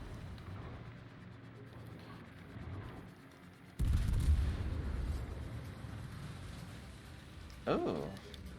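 Heavy naval guns fire in World of Warships, one loud booming salvo followed by rumbling and a later sharper crack, with someone talking throughout.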